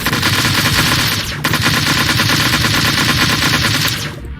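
Rapid automatic gunfire in the Flight Force 4 video game rattles on loud and continuous, with a brief break partway through before the burst resumes and cuts off near the end; no one speaks.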